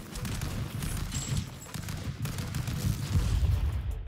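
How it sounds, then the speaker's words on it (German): Rapid gunfire from the stick-figure brawler Stick Fight: The Game, a dense loud barrage of pops and bursts that runs unbroken for the whole stretch with no talk over it. "Ich bin schon wieder tot. Ich wurde erschossen."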